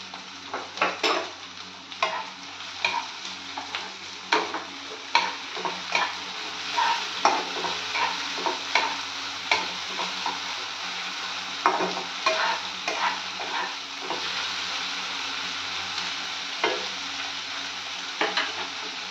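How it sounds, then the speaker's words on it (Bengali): Onion, curry leaves, ginger and garlic fry in a pan for an egg and cabbage dish, a continuous sizzle broken by frequent scraping stirs of a utensil against the pan, no talking. "এখানে পেঁয়াজ, তারপরে কারি পাতা, আদা রসুন এগুলো সব ভালো করে মোটামুটি হয়ে গেছে ভাজা।"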